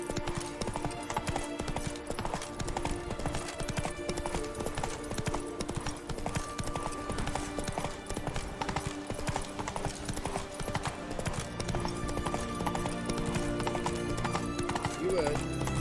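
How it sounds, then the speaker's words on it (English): Horse hooves clip-clopping at a steady trot in The Witcher 3, loud and continuous throughout under game music, with occasional whinnies and someone talking over it. "Come on, Roach"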